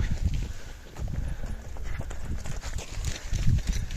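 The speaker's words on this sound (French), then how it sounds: "Oh, les chevaux." Horses walking on a high glacier trail in Peru at about 5000 metres, irregular hoof clip-clop on rocky ground, fairly close and steady, with some outdoor background noise and no clear talking.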